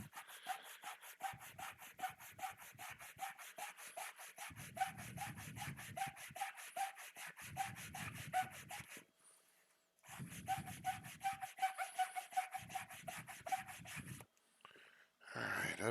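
An Xbox console shell is sanded by hand in preparation for painting, giving steady repeated scraping strokes in close bursts with brief pauses between passes and no talking.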